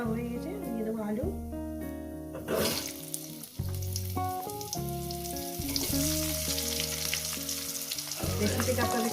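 Potatoes fry in hot oil in a pan with cumin tempering, a steady sizzle running beneath loud background music throughout.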